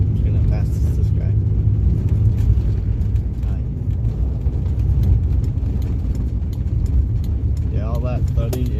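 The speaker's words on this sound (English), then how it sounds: "That thudding is the car going over bumps" A 1989 Chevrolet Sprint with worn shock absorbers rolling down a road, its cabin filled with a constant low rumble and dull thuds as the car bumps over uneven pavement, recorded from inside.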